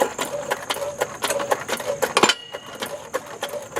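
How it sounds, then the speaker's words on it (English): Rhythmic metallic clicking and ratcheting of a car jack being pumped under the rear control arm of a 2001 Buick LeSabre, a close series of sharp, regular strokes. "I'm going to jack it up."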